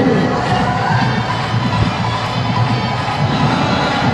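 A packed cricket stadium crowd at a Quetta Gladiators versus Peshawar Zalmi match roars in a dense, continuous wall of cheering and shouting, loud and unbroken throughout.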